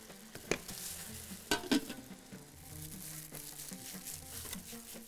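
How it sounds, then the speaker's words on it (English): Quiet stirring in a pot of cooking Bahraini food with zucchini, with soft scrapes and a few sharper clinks against a low, constant sizzle. No voices. "Gonna stir a little bit here, so to get it more tender."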